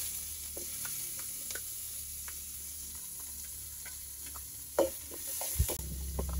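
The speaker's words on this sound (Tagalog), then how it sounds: "Next naman natin ngayon ay magigisa tayo ng sibuyas." Onions sauté quietly in a pan with a soft, continuous sizzle, broken by scattered scraping stir strokes and a couple of sharper knocks near the end; no speech.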